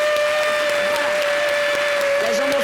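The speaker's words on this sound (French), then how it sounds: "Les gens vont finir d'applaudir" Audience applause at a talk show fades out beneath a sustained steady tone, fairly faint and brief, with no voices over it.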